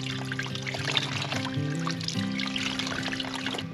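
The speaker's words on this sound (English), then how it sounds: "fill up the water bottles" Cold water is poured into water bottles in the desert, a steady trickling pour with gurgles and a faint tonal hum running beneath it.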